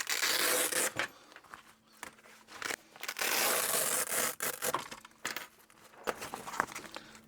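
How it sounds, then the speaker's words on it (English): Velcro pouches tear loose from a Rhino USA tool bag roll in long, loud ripping rasps close by, several separate pulls broken by short pauses and lighter handling scrapes, with no voice. "let's get these pouches off of here, and I'm not going to talk while I'm ripping them off"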